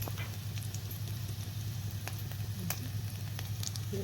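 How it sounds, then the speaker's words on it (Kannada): Oil with a tablespoon of mustard seeds sputters in a pan for a Kannada-style palak gravy, a steady low sizzle with scattered small pops and crackles throughout, close and fairly quiet, with no talking. "ಅದೇ ಬಾಣಲಿಗೆ ಮತ್ತೊಂದು ಸ್ವಲ್ಪ ಆಯಿಲ್ನ ಹಾಕೋಬಿಟ್ಟು 1 ಟೇಬಲ್ ಸ್ಪೂನ್ ಆಯಿಲ್ನ ಹಾಕೋಬಿಟ್ಟು ಒಂದು ಟೇಬಲ್ ಸ್ಪೂನ್ನಷ್ಟು ಸಾಸಿವೆ"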